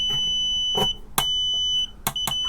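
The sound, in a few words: multimeter continuity test beep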